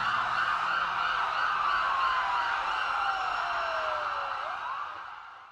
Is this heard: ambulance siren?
yes